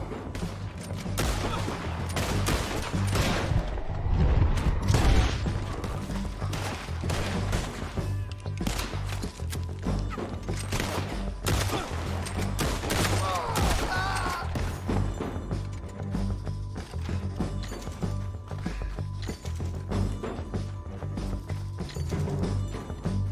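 Sustained gunfire in the video game Red Dead Redemption 2, a dense, continuous barrage of loud shots and impacts that barely lets up, with crashes mixed in.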